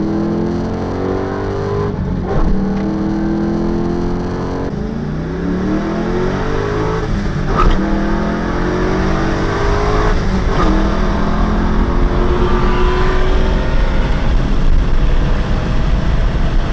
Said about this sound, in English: Bills which would include my prized possession, my 1-liter Honda Civic